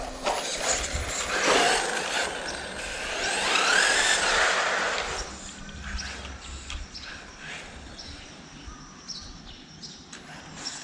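An HSP 94107 RC car with a 4000kV brushless motor on a 2S LiPo battery whines as it accelerates away, a rising high-pitched motor sweep that fades as the car moves off, with faint outdoor background.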